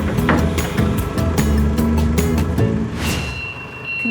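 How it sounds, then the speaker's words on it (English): A forklift truck's loud engine rumble with a regular reversing beep pulsing through it, close by, fading toward the end. "That beeping tells us that the forklift is reversing."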